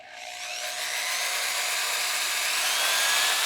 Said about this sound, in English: I'm going to reverse my drill.